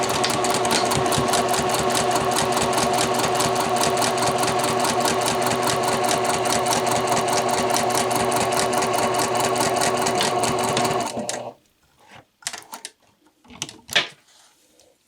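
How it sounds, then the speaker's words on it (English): A sewing machine top stitches a collar in a rapid, steady mechanical patter that runs for about eleven seconds, then stops, leaving a few faint clicks and handling knocks. "I'm going to top stitch yet again."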